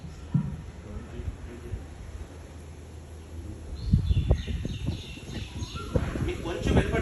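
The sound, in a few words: Asian koel calling outdoors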